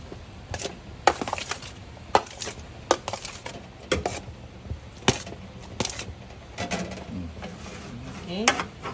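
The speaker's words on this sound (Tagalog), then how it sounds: "Ayan, haluin." Pork chicharon being stirred in a pan, with scattered sharp metallic clinks and scrapes of a utensil against the pan at an irregular pace, close by, with a voice heard at times.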